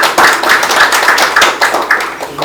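An audience at a Seoul National University policy forum claps to welcome a guest speaker, a steady patter of many hands, close and evenly sustained without voices.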